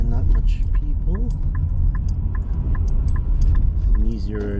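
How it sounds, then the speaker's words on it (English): Low, steady rumble inside a car driving through Toronto streets around Kensington Market and Yonge-Dundas Square in the morning, with someone talking over the engine throughout. "Driving in the morning because it's not much traffic and not much people."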